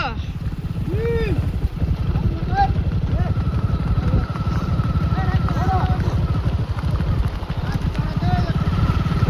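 Horse hooves clip-clop in a steady rhythm at close range, with a continuous low engine-like rumble underneath and people talking over it.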